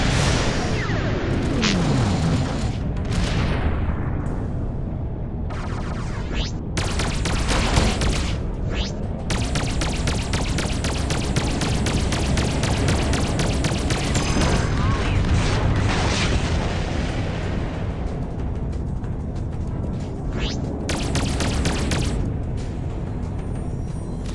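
Space combat in the game Freelancer: a dense, continuous barrage of booming gunfire and missile explosions with repeated sharp blasts, loud and sustained throughout, mixed with some game voices.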